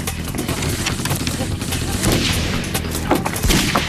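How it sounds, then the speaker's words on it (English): Bursts of gunfire crackle in a chaotic exchange, several sharp reports rising over a dense, noisy background, with voices faintly mixed in. "That sounds like gunfire."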